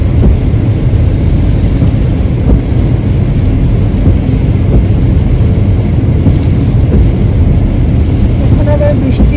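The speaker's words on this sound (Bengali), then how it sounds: "এখন আবার বৃষ্টি একটু বেড়ে গিয়েছে" Heavy rain pouring down in Montreal, a loud, dense, continuous wash of noise that stays steady throughout with no voices.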